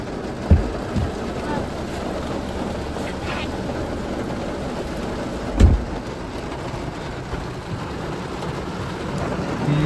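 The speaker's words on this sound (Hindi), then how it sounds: "बारिश तो बहुत तेज होने लगी" Steady, dense rainfall hisses throughout, with a couple of dull thumps and faint voices in the background.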